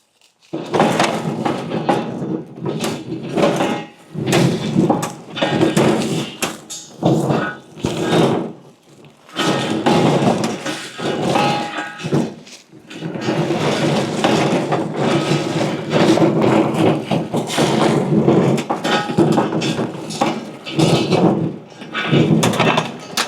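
A heavy cart on bigger wheels rolls over loose gravel, giving a steady crunching, rattling clatter with knocks and thuds from its frame, broken by a few short pauses.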